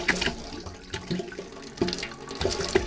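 A pop-up camper's indoor sink faucet sputters with air in the lines, water gushing and spitting in irregular bursts with sharp pops and splashes, loud and close with no talk.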